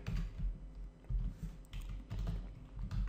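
Typing on a computer keyboard: quiet, close bursts of rapid key clicks separated by short pauses, with no talking.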